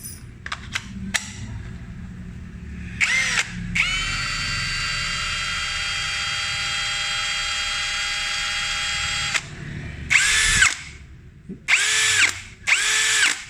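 A Yasuka YID-318CB (Power Action BID20B) impact drill whirs in a long steady burst, framed by short sharp clicks and brief bursts of hammering impact drilling.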